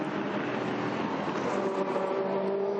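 A CD Sport race car pushes through traffic at the Asian Le Mans Series 4 Hours of Abu Dhabi, a steady loud engine roar with a rising tonal whine, continuous and fairly close.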